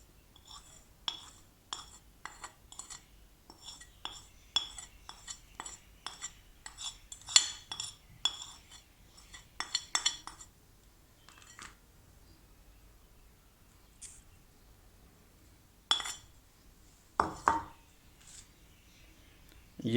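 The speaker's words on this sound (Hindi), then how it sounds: "अब हम ये सारे मसाले इसमें दही में डाल के" A spoon mixing spices into yogurt in a bowl, producing a quick run of bright clinks and taps against the bowl, then sparser scattered knocks with quiet gaps, close and crisp.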